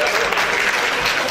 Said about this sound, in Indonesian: Kita boleh beri tepuk tangan sekali lagi teman-teman